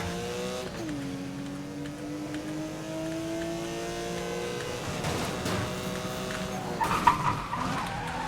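A car engine revs and accelerates in Need for Speed: Most Wanted (2012), its rising harmonic whine steady and close, with tire squeal and skidding bursts near the end over a constant game background.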